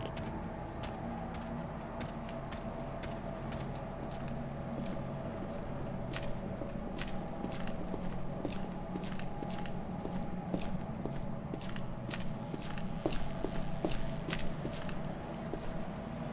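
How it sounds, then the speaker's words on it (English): Footsteps from an unseen figure in the video game Project Silverfish, near a warehouse lower deck at a lakeside dock: a steady run of sharp, evenly spaced clicks over a constant low ambient hum, moderately loud throughout. "I heard footsteps, but I don't see anyone."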